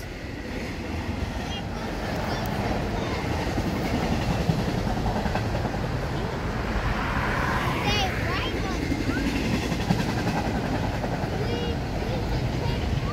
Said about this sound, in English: This is a really fast train. There it goes.